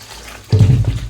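Running water pours over something being washed at home, a soft hiss that starts abruptly halfway through and continues with splashing under a faint background hum.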